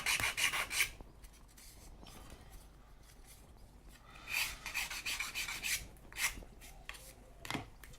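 A file rasps against MDF model-building parts in short, close bursts of dry scraping strokes separated by quieter pauses, with no speech present.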